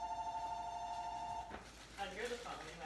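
A phone rings quietly in a room, a faint repeating electronic tone lasting over a second before people start talking nearby.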